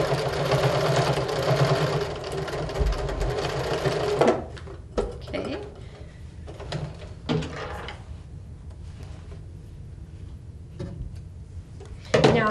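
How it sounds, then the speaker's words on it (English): A sewing machine runs steadily for about four seconds of backstitching on a seam, then stops; quieter handling clicks and movement follow, with a brief restart at the very end. "Then I'm going to backstitch again."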